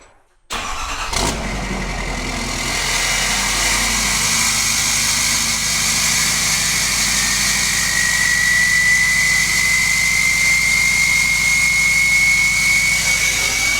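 A truck engine with a 5-inch exhaust fires up and settles into a loud, steady, deep exhaust rumble with a rising whine, running continuously up close.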